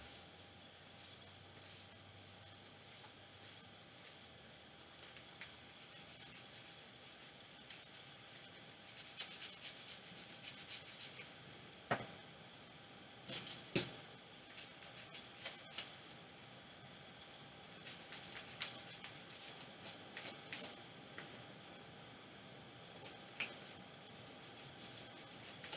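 Stain is rubbed onto a wooden apple box with a cloth, giving soft, faint scrubbing and swishing strokes in uneven bursts, with a few light knocks and no talking.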